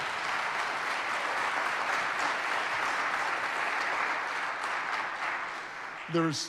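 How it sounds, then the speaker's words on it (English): Audience applause for panelists at a civil rights history event fills the room with sustained, steady clapping that continues nearly throughout, tapering slightly before a brief noise at the end. "One more round of applause for these folks here."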